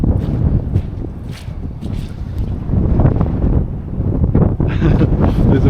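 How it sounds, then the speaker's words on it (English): Strong wind buffeting the microphone out on Staines Moor beside a pond, loud rumbling gusts that surge and ease unevenly, swelling toward the end, with no voices. "Sorry about the wind."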